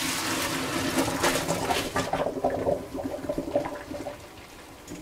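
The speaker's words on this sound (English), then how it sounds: "go ahead and drain the noodles." Water gushes and splashes steadily as cooked noodles are drained, then tapers off into trickling as the liquid pours out and drains away, close by.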